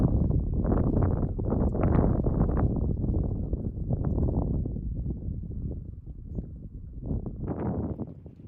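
Gusty wind blusters across a disc golf course, buffeting the microphone with continuous low rumbling and whooshing surges that rise and fall throughout.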